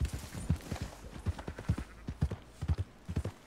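Horse hooves clop in a fast, steady rhythm during a gallop in Red Dead Redemption 2, close and fairly quiet, with no talking over them.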